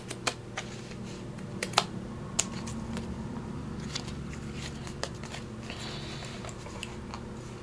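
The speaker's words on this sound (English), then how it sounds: "So I'm going to go ahead and trim that off." Paper is trimmed for a craft project with scissors, making faint, close, irregular snips and small clicks over a quiet room with no talk.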